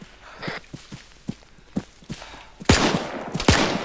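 Gunfire laid down on bunkers in the ArmA 3 video game, scattered single shots and footsteps at first, then two loud, close bursts of firing near the end.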